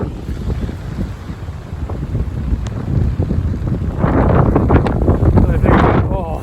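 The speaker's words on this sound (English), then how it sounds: "Oh hey, it's more than a little windy." Strong storm wind on the South Downs buffets the microphone with loud, continuous low rumbling gusts that swell toward the end, while a voice is faintly heard beneath.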